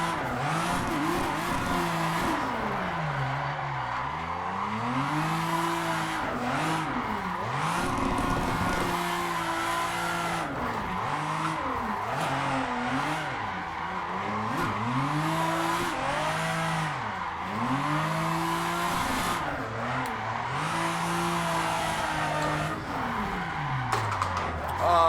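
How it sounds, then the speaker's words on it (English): A Toyota Supra drifting in the racing game Assetto Corsa, its engine droning and revving in long sweeping waves while tires squeal continuously through slides, loud and steady with no talking. "Whenever I record myself drifting here in Assetto Corsa"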